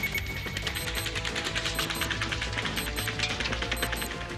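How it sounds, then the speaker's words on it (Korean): A dense, continuous burst of rapid automatic gunfire from a mass shooting in the United States, about 80 shots in seven seconds, fired at more than ten shots a second with a bump stock and heard as a fast, unbroken rattle throughout. "7초 동안 무려 80번의 총성이 울려 퍼진 겁니다"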